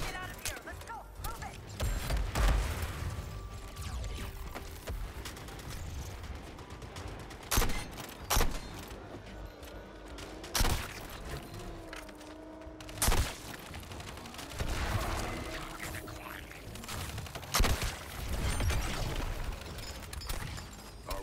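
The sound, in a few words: gunfire fighting an enemy tank, Suicide Squad video game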